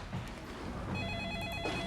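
Office telephone ringing at a law firm, a bright electronic trill heard briefly and moderately close, with faint background noise.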